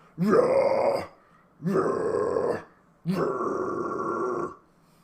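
Three harsh, low, gravelly vocal screams, each about a second long, separated by short pauses.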